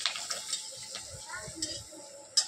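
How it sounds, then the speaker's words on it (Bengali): Papad sizzles softly in hot oil, a quiet crackling hiss broken by a few light clinks of a utensil. "আগে ছোটো ছোটো পাঁপড় ভাজলে কতটা বড় হয়ে যায়, দেখো"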